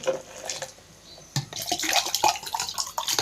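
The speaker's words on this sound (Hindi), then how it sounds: "तो इस टाइम में इसमें 2 गिलास पानी के भर के ऐड करूँगी।" Water is poured from glasses into a blender jar while making a gur sugarcane sharbat. A quiet trickle becomes a louder, splashy gurgling pour partway through.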